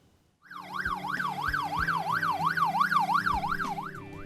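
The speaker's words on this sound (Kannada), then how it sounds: "ಅರೆ, ಆಂಬ್ಯುಲೆನ್ಸ್ ಸೈರನ್ ಸೌಂಡ್ ಬರ್ತಾ ಇದೆ" An ambulance siren wails loud and close, a rapid rising-and-falling whoop repeating steadily after a brief quiet start, with a low engine rumble beneath.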